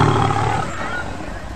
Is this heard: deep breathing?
no